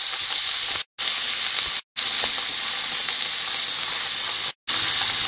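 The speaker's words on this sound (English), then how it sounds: "capsicums have been cooking for a few minutes" Capsicums fry in a hot pan for chilli paneer, a loud continuous sizzle that cuts out abruptly three times in brief gaps before resuming.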